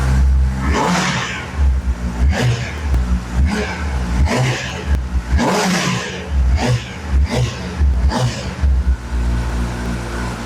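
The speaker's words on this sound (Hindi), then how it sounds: "अगर आपको साउंड आ रहा है तो आपको पता लग रहा हो कितनी लाउड है ये बाइक" A 2023 Kawasaki Ninja ZX-10R sport bike revving hard inside an echoing showroom, loud repeated throttle blips rising and falling in a steady rhythm over about ten seconds, close and forceful with a persistent idle between bursts.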